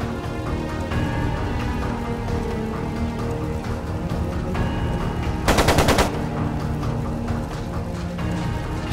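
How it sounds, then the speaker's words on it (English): A short, loud burst of rapid machine-gun fire rattles out in the video game Trails of Cold Steel II over a continuous musical score. "It sounded like a machine gun."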